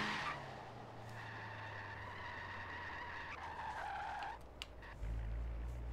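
A 1932 Ford drifting in Forza Horizon 3, tires squealing in a long continuous skid over a steady engine drone, the squeal breaking off near the end as the engine surges louder.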